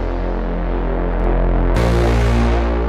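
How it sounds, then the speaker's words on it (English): Heavyocity Mosaic Bass sample library in Kontakt playing a sustained synthetic bass note through Punish harmonic distortion and overdrive, a dense buzzing drone that grows brighter and grittier partway through as the effect is pushed harder. "that brings some more harmonic distortion and overdrive"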